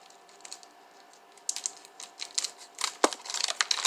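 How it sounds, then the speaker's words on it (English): Kitchen shears cut through a brick of cheese, making a string of close, crisp snipping and crunching clicks that grow busier and louder toward the end. "I'm just going to cut them with my shears."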